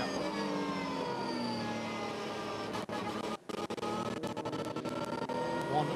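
Gigaspeed Porsche race car, number 101, at a VLN endurance race in 2017, with a steady engine drone running throughout and a few brief dropouts partway through.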